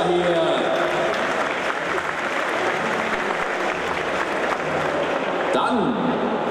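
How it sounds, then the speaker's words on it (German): Sustained applause from a live audience greeting a cosplayer dressed as a Draenei paladin with a sword, steady clapping throughout at moderate loudness, with a brief voice cutting in near the end. "Großen Applaus für Saskia hier."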